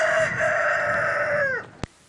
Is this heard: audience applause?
no